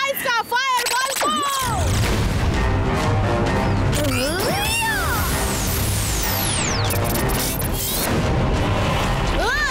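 A fireball magic spell erupts in a Bengali animated action story, with whooshing, swooping tonal sweeps over dense rumbling bursts and crashes. It stays loud and layered throughout, with voices mixed in.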